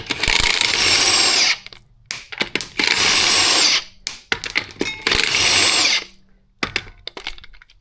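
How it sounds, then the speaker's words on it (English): Impact wrench on a Mazda CX-9 wheel, breaking loose the lug nuts: three long, loud buzzing bursts of about a second each, separated by clanks and socket rattles, then a shorter final burst. "I'm going to break these lug nuts loose"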